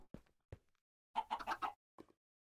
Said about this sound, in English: Obviously some eggs have been falling through and breaking, hence the chickens.